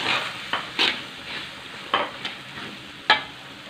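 Macaroni frying in a pan as spring onions are added and stirred, with a soft sizzle underneath and several sharp scraping clinks of utensil on pan spaced irregularly, fairly quiet, no talking.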